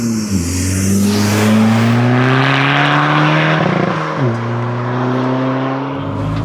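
A SEAT Ibiza FR TDi diesel track car, tuned to 250 bhp, accelerates hard on a circuit. The engine note climbs loudly through a gear, drops at the shift, then climbs again, heard close from inside the car.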